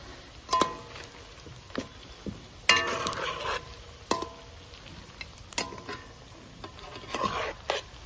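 Pieces fry in a pan while a utensil stirs them. A soft, constant sizzle sits under sharp, scattered scrapes and clinks from the stirring, fairly close and moderately quiet.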